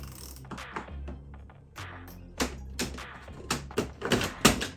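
Removing the front grill of a VW Mk6 GTI: a series of plastic clicks, snaps and rattles as clips release and parts shift, close and fairly quiet, with irregular sharper pops toward the end.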